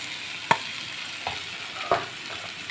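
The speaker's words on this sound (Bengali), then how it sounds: "এবার এই আলুটার মধ্যে আমি দিয়ে দিলাম স্বাদ মতো নুন, একটু নাড়াচাড়া করে নেব।" Potatoes with salt stirred in a frying pan with oil: a steady sizzle of frying, broken by a few soft spoon scrapes and knocks against the pan.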